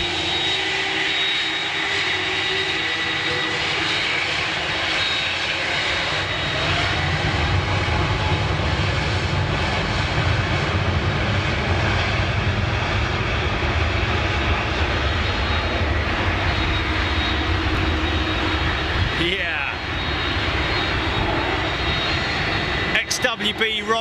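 Airliner with Rolls-Royce Trent XWB jet engines at high thrust near Manchester Airport, a loud sustained roar with hot jet blast that stays steady and close throughout.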